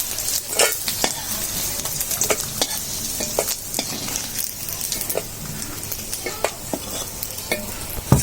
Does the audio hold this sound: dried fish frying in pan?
yes